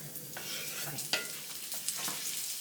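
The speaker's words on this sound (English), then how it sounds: "We're going to cook our bacon and start our other batch going simultaneously." Bacon frying in a pan gives a steady, close crackling sizzle with a few brief sharper pops and scrapes over it.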